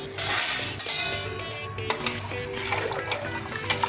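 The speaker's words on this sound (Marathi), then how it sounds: "मीठ आता चांगलं हलून घ्यायचं" Metal utensils clink and scrape against a pot while salted water swishes and trickles, a steady close stirring sound with occasional sharper knocks as salt is stirred into water.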